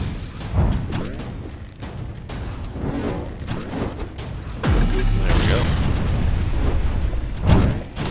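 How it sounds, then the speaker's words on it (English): Deep booming blasts from the video game Clone Drone, with a heavy explosion roaring midway and rumbling on, plus scattered sharper bangs. "That explosion distracts me."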